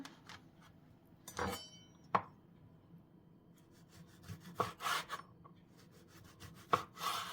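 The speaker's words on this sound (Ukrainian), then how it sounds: "Тепер нарізаємо ковбаски." A knife cuts sausage for pizza on a board, producing scattered close chops and scraping rubs, several sharp strokes and an uneven rhythm over a quiet background, with no speech.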